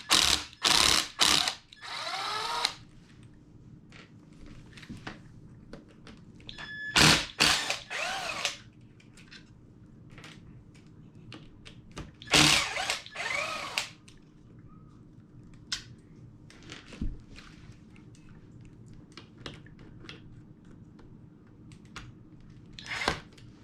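Screws are backed out of a Hobao Hyper MT+2 RC monster truck, some set with Loctite, as a small electric driver whirs and ratchets in repeated loud bursts with quieter clicking and handling between them.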